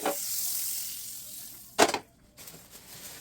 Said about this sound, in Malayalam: ഇനി നമുക്ക് ചെയ്യേണ്ടത് ബന്നിനെ നമ്മളൊന്ന് ഫ്രൈ ചെയ്തെടുക്കാം.